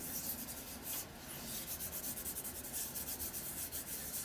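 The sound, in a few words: gently rubbing and smoothing down a napkin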